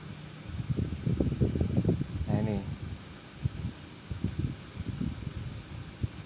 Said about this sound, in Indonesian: engine speednya 720 sampai 730 rpm